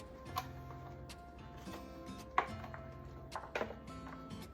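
A hand-operated food chopper works through onion and pepper, giving a few sharp clicks and chops spaced about a second apart over a low steady hum, fairly close and quiet, with no talking.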